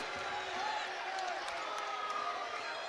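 A sparse crowd at a high school district semifinal basketball game murmurs and calls out steadily in a gym, a continuous mid-level wash of voices with scattered shouts.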